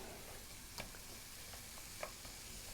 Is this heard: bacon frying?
yes